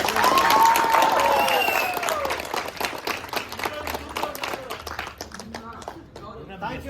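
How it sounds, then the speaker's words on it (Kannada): Loud applause from a cinema audience after a Kannada film screening, a dense crowd clapping that starts strong and thins out over several seconds, with talk mixed in. "ನಮ್ಮ ಸನತ್ ಕುಮಾರ್ ಸರ್ ಕತೆಗೆ, ಕ್ಯಾಮ್ರಾಮನ್ ಸರ್ ವರ್ಕ್ಗೆ ಒಂದು ಜೋರಾದ ಚಪ್ಪಾಳೆ."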